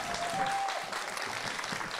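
An audience applauds at a festive concert in Jūrmala: dense, steady clapping throughout, fairly close and full, with no talk over it.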